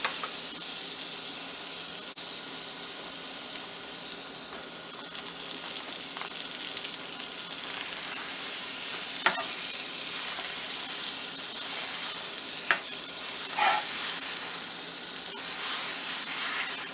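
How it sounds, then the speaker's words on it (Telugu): Halved pav bread fries in butter in a pan. A steady, close sizzle crackles on its own and grows a little louder and busier halfway through, with occasional sharper spits and no voices. "ప్యాన్ పెట్టుకొని బటర్ వేసుకొని ఈ పావుని హాఫ్ కట్ చేసుకొని ఫ్రై చేసుకోవాలి."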